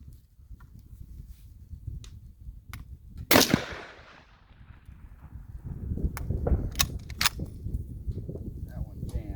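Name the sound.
semi-automatic rifle firing Lee Classic Loader hand-loaded bullets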